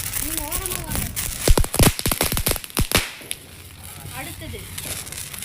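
Diwali firecrackers burst at night in a rapid string of sharp, loud cracks and pops near the middle, preceded and followed by people talking and calling out nearby.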